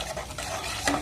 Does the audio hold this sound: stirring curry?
yes